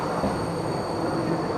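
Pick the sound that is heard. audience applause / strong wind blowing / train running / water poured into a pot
train running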